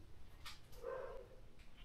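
A single faint dog bark, distant and brief, over a low background hum.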